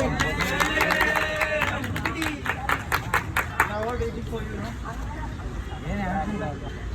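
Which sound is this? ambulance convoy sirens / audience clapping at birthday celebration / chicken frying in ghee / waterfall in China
audience clapping at birthday celebration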